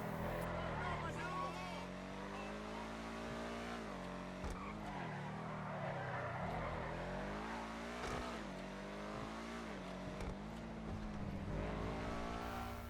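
Engine of the Schlang GT, a car modeled on the AMG GT, in GTA V, droning steadily with pitch swings as it revs and shifts, tires skidding at times, with a voice talking over it throughout.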